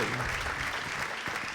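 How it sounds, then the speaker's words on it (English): An audience at a music talk event applauds, a dense, loud round of clapping filling the short moment without pause. "a big round of applause for Jan Gradvall."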